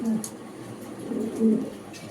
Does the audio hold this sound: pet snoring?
no